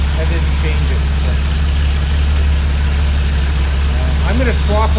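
Car engine idling smoothly after a charging-regulator repair, a steady low rumble that holds constant and close, with brief faint voice sounds near the end.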